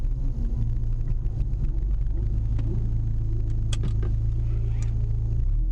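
A car engine drones steadily and loud as it accelerates out of a corner on a race track, a continuous low rumble with a faint higher whine.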